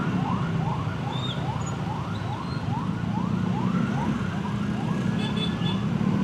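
An ambulance siren wails in repeated rising sweeps through a Jakarta city traffic jam, loud and steady over a constant low rumble of engines and road noise.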